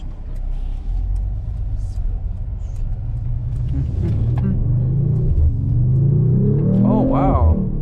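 A 2026 Mercedes-Benz CLE 53 AMG in Sport Plus mode accelerates hard, its deep engine rumble building steadily and climbing in pitch toward the end, heard close from inside the cabin.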